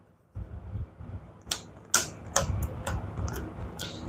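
Someone shuffles a deck of House of Gaul cards in a board game. Quiet riffling and rustling come with a series of sharp card snaps, close and fairly faint, with no talking.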